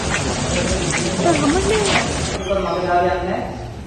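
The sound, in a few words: heavy rain falling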